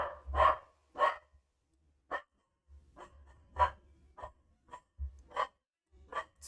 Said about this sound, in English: Got the dog going off at the mailman.